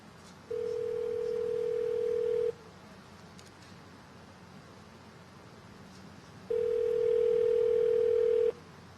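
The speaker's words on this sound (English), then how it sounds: "I'm dialing the number" Telephone ringback tones while a call goes through, two long steady buzzing tones a few seconds apart with quiet line hiss between them.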